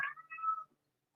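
A single cat meows nearby, a clear drawn-out wavering cry that fades quickly into silence.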